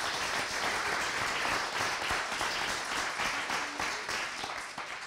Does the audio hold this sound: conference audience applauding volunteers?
yes